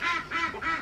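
Several young ducklings quack in quick, close bursts, three rapid clusters of calls loud and alone with no talking.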